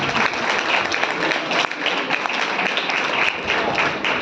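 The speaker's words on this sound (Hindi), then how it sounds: "जोरदार तालियां एक बार" An audience at a Hindi poetry gathering in Delhi breaks into loud, sustained applause, dense clapping filling the whole stretch with a slight dip midway.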